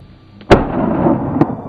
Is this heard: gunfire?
yes